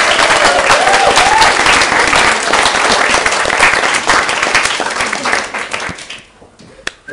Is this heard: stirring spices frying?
no